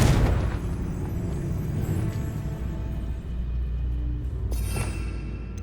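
A Confringo spell explosion in Hogwarts Legacy, a sharp burst at the very start that decays into a rumbling tail, with a softer impact near the end.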